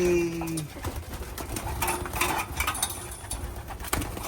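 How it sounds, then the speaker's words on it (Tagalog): Racing pigeons coo in low, throaty calls nearby in a loft, with faint clinks and rustling in the background. "Ito mga ibon."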